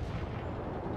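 Units opening fire in the real-time strategy game World in Conflict: Soviet Assault, a steady roar of artillery and gunfire that holds loud and dense across the brief moment, without any voices.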